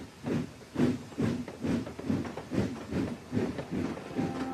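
A steam engine in the Trainz video game puffs away rhythmically, with repeated breathy hissing chuffs about twice a second, steady and fairly close, with no talk over it.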